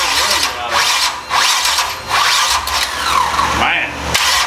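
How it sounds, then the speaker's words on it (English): A big block Chevy jet boat engine on a stand cranks with the ignition on in loud, uneven whirring bursts that stop and start, with a voice talking over it. "I don't think it likes cranking with the ignition on."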